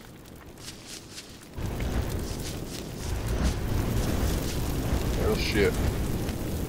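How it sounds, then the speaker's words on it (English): A tree set alight in the Don't Starve video game gives off a steady, soft crackling rush of flames that swells after a quiet start and carries on beneath a brief spoken exclamation. "a tree on fire."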